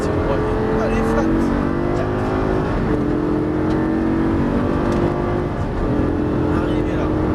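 Lamborghini Gallardo accelerating hard on a race track, with loud engine notes climbing in pitch through repeated gear changes, heard near and continuous, a voice speaking over it.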